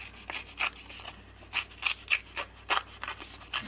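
Scrap paper or fabric trim is torn by hand in a series of short, dry ripping bursts, about a dozen irregular pulls, close and fairly loud.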